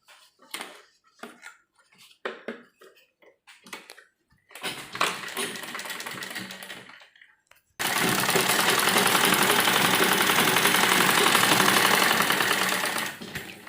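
A sewing machine stitches elastic into the folded edge of frock fabric. Scattered handling clicks come first, then a short run of stitching and a long, loud, steady whirring run, all close up.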